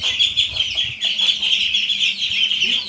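Chicken chicks kept indoors during heavy rain, giving a continuous high-pitched chorus of peeping chirps, close and fairly loud, with a few low bumps underneath.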